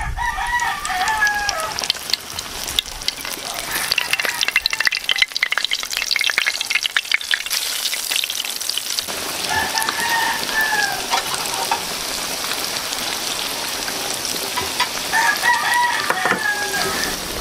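Duck burger patties fry in hot oil with a dense, loud, continuous crackle and sizzle, and faint clucking and crowing of chickens come from outside during the frying.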